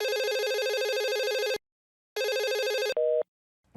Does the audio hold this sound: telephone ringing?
yes